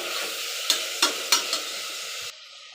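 Sliced tomatoes sauté in a pan for tomato rice, a loud steady sizzle with four quick spatula scrapes, then the sizzle drops sharply as if the heat is muffled near the end.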